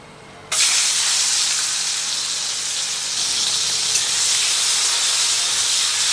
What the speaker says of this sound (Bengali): তেলটা গরম হয়ে গেছে, তেলের মধ্যে দিয়ে দিচ্ছি নুন হলুদ মাখানো চিংড়ি মাছটা